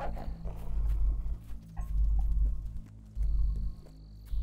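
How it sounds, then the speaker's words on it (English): A dog in the video game Fable III gives a few short barks and yips in bursts, moderately close, over a low game ambience hum. "Oh, doggy!"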